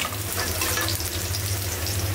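Fish fries in a small amount of oil in a pan, producing a constant close crackling sizzle over a low steady hum.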